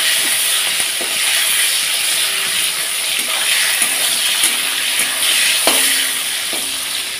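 Tomatoes frying in a hot pan, a loud continuous hiss and crackle of sizzling oil with occasional sharper pops and a few soft knocks of a utensil.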